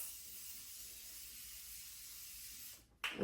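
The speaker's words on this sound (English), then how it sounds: "We'll do a little setting spray." Setting spray misted onto a face during a makeup routine, a steady close hiss lasting nearly three seconds before cutting off abruptly.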